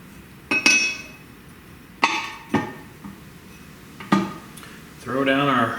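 Metal fittings for a V8 fuel surge tank are wedged back into place, giving a few sharp clinks and knocks spaced a second or two apart, ending in a brief voiced murmur.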